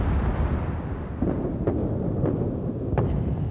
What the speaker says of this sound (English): Wyoming's firing HE.